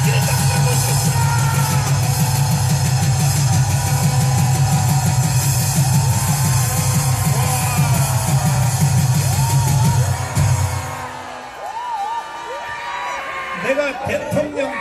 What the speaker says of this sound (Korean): 정남호 목사님을 기립박수로 모시겠습니다